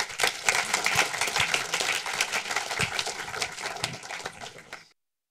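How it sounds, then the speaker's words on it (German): An audience applauds film producer Jonas Weydemann at a screening of Systemsprenger, a loud, dense burst of clapping with sharp individual claps that holds steady for about four and a half seconds, then stops abruptly. "Großen Applaus, der Produzent Jonas Weidemann, Systemsprenger. Dein Applaus."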